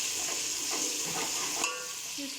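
Ginger garlic paste, two tablespoons, frying in a pot for chana pulao, a continuous soft hiss and sizzle with a light scrape of stirring partway through.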